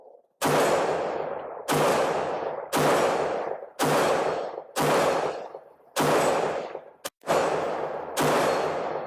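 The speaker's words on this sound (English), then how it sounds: "we got a steel target right beside it. Let's see if we can hit it, make it ring" Rifle shots fired through a G3 4-16x50 scope at a steel target about 50 yards out, seven loud sharp cracks spaced roughly a second apart, each ringing and decaying before the next, with no talking.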